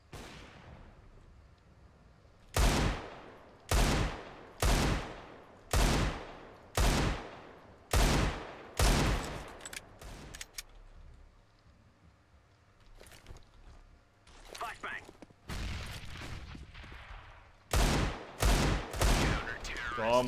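Spraying gunfire in CS:GO, a Desert Eagle duel: a run of evenly spaced, sharp loud shots, a quieter stretch with scattered noises, then another quick burst of shots near the end, with a player talking in between.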